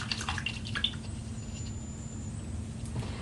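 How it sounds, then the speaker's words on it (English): Paintbrushes are swished and rinsed in a water cup after painting a cactus, giving soft close trickles and drips that are strongest at first and then settle into a quiet watery background. "Let's wash off our paintbrushes."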